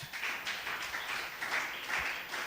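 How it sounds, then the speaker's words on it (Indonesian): A church congregation at a Sunday worship service claps loudly, a dense, steady wash of applause from a large room with no talking over it. "Tepuk tangan yang keras."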